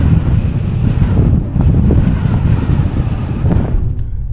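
Strong winter wind roars across the microphone during a solo bicycle ride on the Oregon Pacific coast, a steady loud rumble that holds throughout and eases only slightly at the end.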